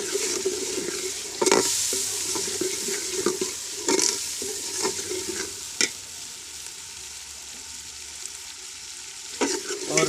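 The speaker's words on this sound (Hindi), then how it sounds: "मिर्चें अच्छी तरह भून गई हैं। अब हम इसके अंदर टमाटर डालेंगे।" Tomatoes go into green chilies frying in a pot for a split Bengal gram curry, giving a steady loud sizzle with intermittent stirring scrapes and clanks of a spoon against the pot.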